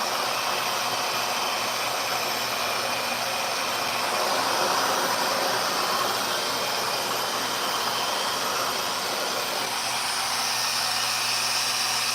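A RevAir reverse air hair dryer runs with a steady, loud broadband whoosh and a low motor hum, holding constant throughout with a slight swell midway.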